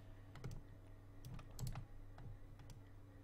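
Computer keyboard keys tapped in short irregular bursts while modeling a vase in Blender, quiet and close, with no voices.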